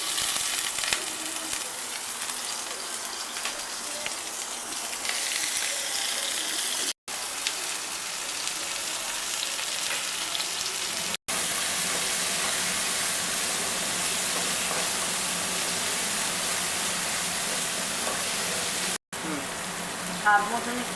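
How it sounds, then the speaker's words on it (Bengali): Vegetables frying lightly in refined white oil for bati idli, a steady broadband sizzle and crackle running continuously at close range with no voice over it. "এবার আমি সবজিগুলি হালকা ভেজে নেব।"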